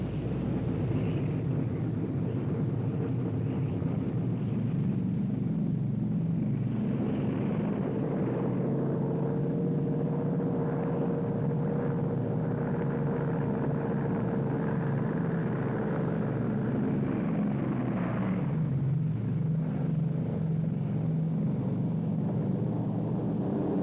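Japanese warplanes in World War II footage, a steady engine drone and roar that swells and fades over a continuous noisy background, with no voices.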